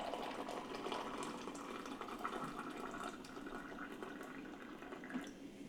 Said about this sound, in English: Now we can dispense hot water.